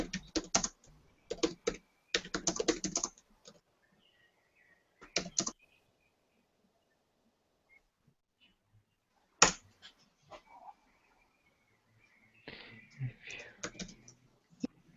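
Typing on a keyboard in short bursts of key taps, with pauses between them and some quiet speech nearby, fairly faint overall.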